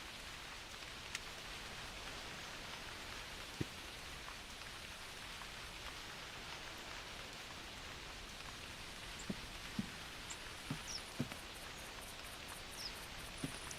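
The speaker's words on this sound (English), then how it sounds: "Please stop raining." Rain falls steadily in theHunter Classic, a dense even hiss of drops on the ground with occasional louder individual splats, alone with no voices.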